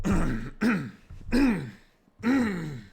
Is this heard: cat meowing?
no